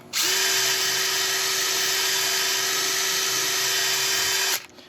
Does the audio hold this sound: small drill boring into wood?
yes